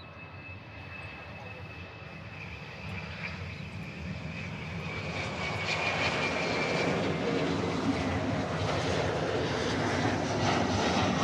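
Jet engines of a taxiing military plane, the Canadian Moose, at Honolulu airport give a steady broadband roar with a whining tone, growing gradually louder as the aircraft moves.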